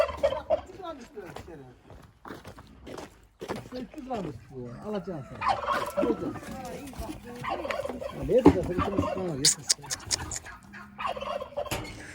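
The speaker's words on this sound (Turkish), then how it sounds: "Hindi var satılık." Turkeys on a Turkish farm gobble repeatedly and loudly in an irregular chorus, with a person talking briefly over the birds.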